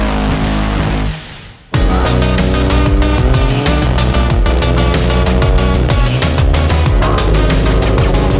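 Alfa Romeo Giulia and Stelvio cars driving hard, loud engine roar with revving and tire noise, briefly dropping away before surging back at full intensity.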